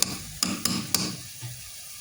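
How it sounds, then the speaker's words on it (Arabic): Meat browning with tomato paste in a pot for an Iraqi bean stew, a soft sizzle broken by three sharp spoon knocks and scrapes against the pan, then quieter frying near the end. "هسه حمصت اللحم وحطيت وياه معجون، وشوفوا شلونها تخبر"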